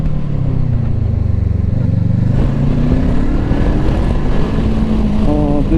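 A VOGE 500DS motorcycle engine accelerates: a loud, close, steady throbbing rumble whose pitch climbs gradually as the revs rise, heard from the rider's position.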